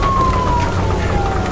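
Police car siren in the Nobody Wants to Die game, a loud steady wailing tone gliding slowly downward over a dense rumbling bed, continuous for the whole stretch.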